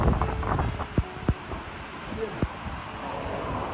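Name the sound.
strong typhoon wind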